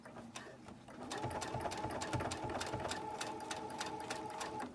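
Sewing machine stitching slowly along the edge of a cotton quilt top, close and steady, with a constant motor hum and evenly spaced needle clicks continuing throughout.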